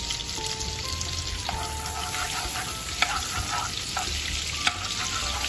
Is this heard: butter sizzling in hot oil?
yes